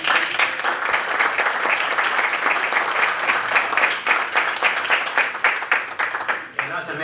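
Steady applause fills a city council meeting, dense clapping from the room that holds for several seconds before thinning slightly at the end, with some talk underneath.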